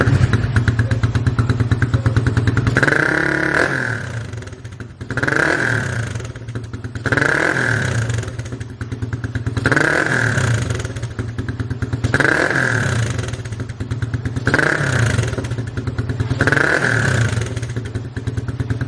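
Yamaha Raider R150 motorcycle fitted with a VMAX Stage 2 conical exhaust and silencer, revving in repeated bursts about every two and a half seconds over a steady idle, close and loud.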